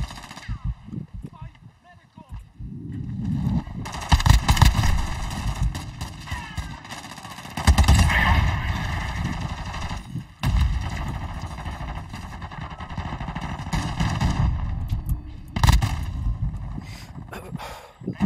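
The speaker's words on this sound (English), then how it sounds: "Shot of a gun." Gunfire from the Call of Duty Modern Warfare 2 video game, with repeated loud bursts of shots and explosive impacts spread across the clip, mixed with game noise.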